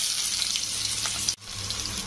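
Chopped onion frying hard in a hot pan with bay leaf and dried red chilies, a steady close sizzle with a brief dip near the end before it resumes, no voices.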